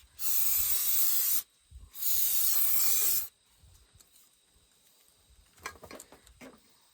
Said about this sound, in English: we'll spray a little bit of brake part cleaner on the drum